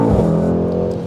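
A 2020 Mercedes-Benz AMG GT 63 S driving, a deep, loud engine drone from inside the cabin, steady and brief with no talking.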